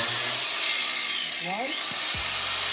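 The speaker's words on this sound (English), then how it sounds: "so we went to a grinder. So we're gonna try it out" An electric grinder whines steadily at close range during an Auxbeam light bar install on a 2022 Ford Maverick, with a voice counting briefly over the tool's noise.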